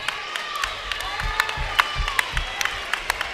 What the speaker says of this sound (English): We see lots of claps from Senator Nation